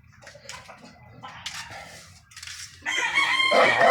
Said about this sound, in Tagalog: Ayan pa po yung ibang ating mga manok na panabong.